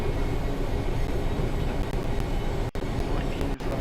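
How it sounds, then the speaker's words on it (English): A rail head treatment train under full brake application gives a loud, continuous rushing, grinding roar with broadband noise, briefly cut by two sharp dropouts near the end. "we have the brakes full application now, in the hope that we can stop this giant train"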